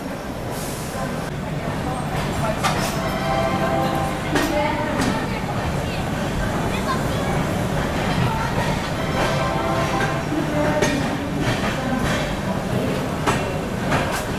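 Delhi–Howrah Rajdhani Express pulling into Jhansi station, a steady rumble of wheels and rail noise with faint brake hiss and station ambience, voices talking over it throughout.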